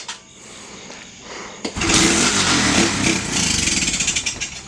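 A small TAO pit bike engine runs on carburetor gas, starting rough and faint before catching and revving into a loud, close, buzzing putter with pulsing bursts of throttle.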